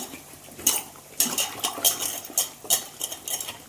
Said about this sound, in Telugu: వంకాయలన్నీ కట్ చేసేసుకున్నాను ఉప్పు నీళ్ళల్లో కడుక్కుంటున్నాను